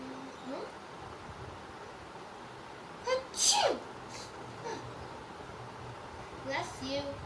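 A sharp, loud sneeze bursts out in a quiet indoor room during a toy play session, with a smaller sneeze-like sound and faint voices around it.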